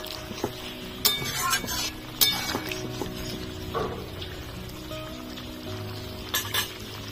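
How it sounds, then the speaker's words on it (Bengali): Cauliflower and soybean curry sizzles in a pan as a spoon stirs it, with steady frying hiss, scraping strokes and occasional sharp clinks of metal against the pan, all close up. "ভালো করে মিশিয়ে নেব।"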